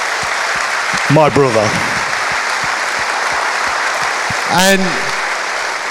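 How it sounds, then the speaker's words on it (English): Audience applause at a live talk, a steady broadband wash of clapping running the whole time beneath a voice speaking briefly twice over it. "I just want to give him a round of applause."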